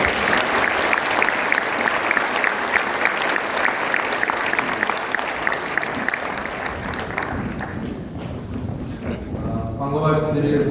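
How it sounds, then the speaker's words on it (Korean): A presbytery assembly of church members at a gathering bursts into dense, sustained applause that fills the room for several seconds, then fades into a voice speaking over the room. "우리 큰 박수 한번 해주시면 감사합니다"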